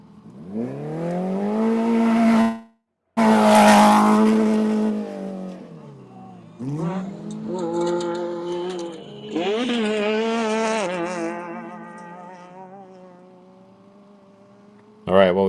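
Rally cars at the Abu Dhabi Desert Challenge prologue rev and accelerate loudly nearby, engine pitch climbing and shifting through gears, with a brief cut and another car pulling away; a commentator talks over the engines.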